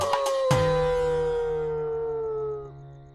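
A dog howls in a long, mournful wail that slowly falls in pitch and fades out, preceded by a couple of sharp short yips, moderately loud and alone with no talking.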